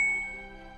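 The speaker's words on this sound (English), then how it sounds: "I'm knocked out of my stupor by a text message on my phone." A phone text-message notification chime in a video game rings once, a bright tinkling ding that starts at full strength and fades over under a second, heard alone.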